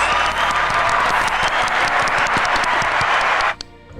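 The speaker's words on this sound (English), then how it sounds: "Can I get a round of applause?" Studio audience gives a round of applause at the opening of a student-led podcast, dense steady clapping for about three and a half seconds before cutting off sharply into quiet.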